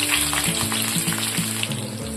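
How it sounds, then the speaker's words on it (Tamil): Steady crackling sizzle of shallots and green chillies frying in hot oil, close and continuous, with faint stirring clinks underneath. "நம்ம சேர்த்துக்கிட்ட சின்ன வெங்காயத்தையும் பச்சை மிளகாயும் நல்லா எண்ணெயில் வதக்கிடுவோம்"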